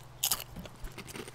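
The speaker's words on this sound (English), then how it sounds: "Don't chew loud." Someone chews Doritos loudly, with a sharp crunchy bite followed by several softer munching crunches, close up and brief.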